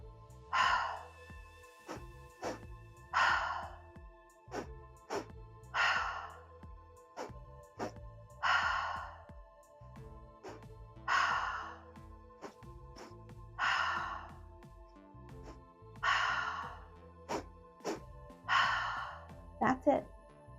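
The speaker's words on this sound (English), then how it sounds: "Keep that breath moving. 2 inhales through the nose, exhale through the mouth." Three-part breathing repeats steadily: two short sniffing nose inhales followed by one long, airy mouth exhale, about eight cycles in an even rhythm, close and clear in a quiet space.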